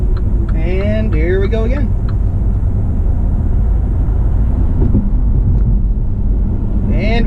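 A MINI Countryman hybrid, running rear-wheel drive on its electric motors, climbs a road with a steady low rumble of tyres and drivetrain heard from inside, while someone speaks briefly at the start.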